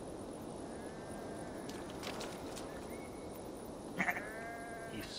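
Sheep in Assassin's Creed Valhalla bleat in a few short, nasal calls over a steady ambient game backdrop, with a louder, closer bleat near the end.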